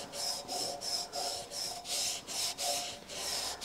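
A clean towel rubs back and forth over rusty chrome after a degreaser is applied, making a steady, close, dry scrubbing rasp in about seven quick even strokes with no talking.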